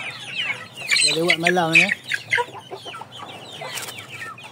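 Indio Gigante chickens cluck and squawk up close, one loud drawn-out harmonic call standing out early, while someone talks over the birds.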